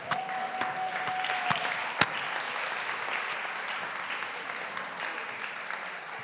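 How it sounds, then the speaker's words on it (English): Conference audience at a summit presentation applauding a presenter, a continuous moderate roar of many hands with a few sharper claps standing out and a brief faint tone near the start. "can we get a round of applause for Vince Leisey?"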